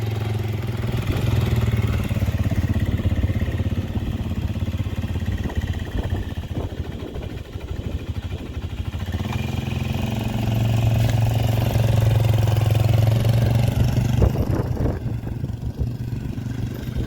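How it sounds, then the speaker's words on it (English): Kymco Mongoose 250cc quad engine idling nearby, a steady loud chugging putter with some mechanical clatter that holds throughout, swelling slightly in the later seconds, with no speech over it. "Now we're going to fire it back up again and make sure that the engine is going to pull coolant in and everything."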